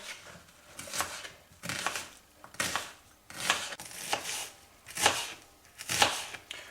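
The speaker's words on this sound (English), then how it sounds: "we're going to chop this onion and press that garlic" A knife chops an onion on a cutting board. Bursts of chopping come roughly once a second, each a close, crisp cluster of cuts and board knocks at moderate loudness, with no talking.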